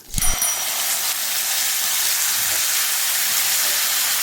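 Ground onion chutney hits hot oil tempered with mustard seeds and curry leaves, setting off a sudden loud splash and then a strong, steady sizzle that holds close and constant.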